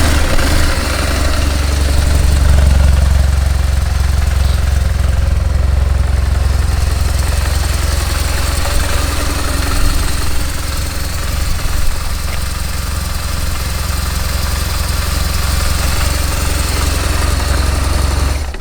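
A 2005 BMW R1200GS motorcycle engine idles in a steady low, throbbing rumble, loud and close, holding an even tone throughout with no one talking.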